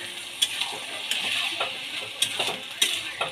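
Boiled chickpeas go into a pan and are stirred, producing a run of bright metallic clinks and scrapes over a low frying hiss, with several distinct spoon knocks spaced across the stretch.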